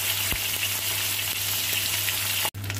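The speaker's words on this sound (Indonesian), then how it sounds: "Sambil kita goreng ikan sampai ke kuning-kuningan, kita rebus dulu air ya guys ya." Fish fries in a pan with a loud, steady close sizzle and scattered crackles and pops, broken by one brief dropout near the end and free of talk.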